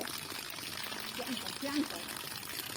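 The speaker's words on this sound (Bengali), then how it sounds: "আমাদেরও জল আসছে দেখো" Water pours steadily from a newly installed tap, a continuous broad splashing rush that carries through the clip, with a brief voice surfacing faintly partway through.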